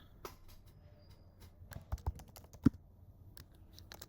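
Computer keyboard clacks as code is typed, quiet irregular keystrokes with a brief pause at the start and one sharper, louder tap near the middle.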